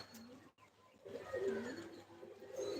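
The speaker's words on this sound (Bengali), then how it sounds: "নিচেতে কিছু পায়রা আছে" Pigeons being readied for a flying tournament coo softly in a short, faint burst of low warbling calls amid quiet background noise.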